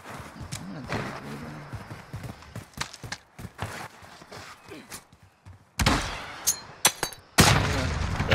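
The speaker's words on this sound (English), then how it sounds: "Got cracked by a nade and a stun" Two explosive blasts, one a grenade and one a stun grenade, hit in a tactical video game, with sharp broadband bursts arriving late among scattered impacts and game noise, loud and close, while a player talks earlier.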